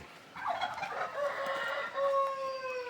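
A rooster crows loudly and close on a free-range poultry farm, one drawn-out call that rises and then holds. Noises from hens and turkeys sit around it and no one speaks.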